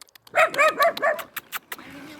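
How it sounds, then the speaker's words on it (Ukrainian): A puppy from an abandoned house gives four quick, close, high-pitched barks in a row, followed by a few faint clicks and shuffling. "Хто це тут гавкає? Хто на нас гавкає?"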